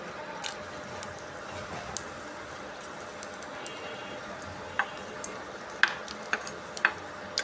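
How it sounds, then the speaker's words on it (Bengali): Dried red chillies frying in hot oil in a wok, a soft steady sizzle with scattered sharp pops and crackles that grow more frequent toward the end. "তেল গরম হয়ে গেছে আমি দুইটা শুকনো মরিচ ভেঙে দিয়ে দেবো"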